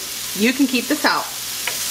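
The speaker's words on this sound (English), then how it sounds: "we just want these to sweat a little bit in this olive oil" Onions sweat in olive oil in a pan, a soft, steady sizzle heard under a person talking nearby.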